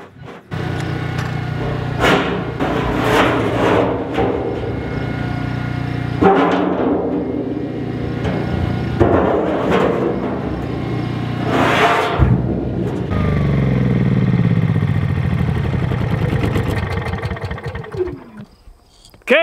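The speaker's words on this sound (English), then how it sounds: "let's fire up the generator and get this show on the road" A generator starts and runs during plasma-cutting work on an oil drum for raised garden beds: repeated surging engine bursts, then a sustained close rumbling drone that cuts off at the end.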